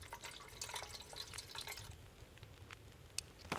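Fuel being poured to refuel an item in the survival game The Long Dark: a steady trickle of liquid with scattered drips and small splashes, fairly faint and heard alone.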